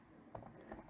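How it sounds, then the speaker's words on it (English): Typing on a computer keyboard while working in an Excel spreadsheet, a few soft close keystrokes in under a second, faint and with no talk. "I'm going to type here"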